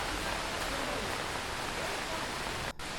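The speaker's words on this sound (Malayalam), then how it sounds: "നല്ല മഴയാണ് ഇപ്പോൾ ഉള്ളത്" Heavy rain falls on a house construction site during concrete lintel work, a dense, loud, steady hiss that fills the whole stretch with only a brief break near the end.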